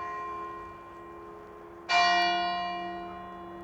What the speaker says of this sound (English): Well, there go the bells.